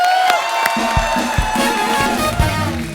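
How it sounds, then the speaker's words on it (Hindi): A studio audience on a comedy talk show claps and cheers loudly and steadily throughout, a dense roar of hands and voices with music underneath. "एक बार जोरदार तालियां।"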